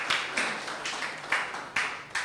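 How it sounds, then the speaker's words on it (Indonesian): Worshippers in a church service clap together for Jesus, producing sharp, fairly regular claps that stand out above a soft, continuous patter of scattered hands, heard at a moderate distance with no speech. "Tepuk tangan buat Tuhan kita, Tuhan Yesus."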